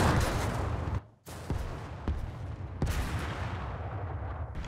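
Tank gun firing in a war film, heard as a loud, dense battle din with sharp blasts cutting through the rumble, one brief drop to near silence, then repeated heavy reports and continuous noise.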